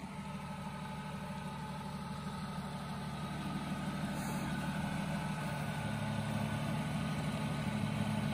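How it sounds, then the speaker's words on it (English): A Jeep on 40-inch tires, in first gear, gives off a low, steady engine rumble that swells slightly partway through, heard alone at a moderate distance. "Put it in first gear. Just ease out on the clutch."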